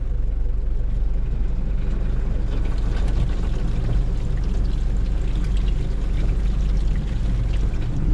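Heavy rain pours steadily over a car leaving a restaurant in Turkey near Ephesus, a dense, continuous wash of noise with a low engine rumble underneath, loud and unbroken throughout.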